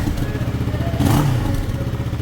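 A Benelli TRK 502X limited edition parallel-twin motorcycle idles with a steady close throb, then gives one short throttle blip that swells and settles back within a couple of seconds.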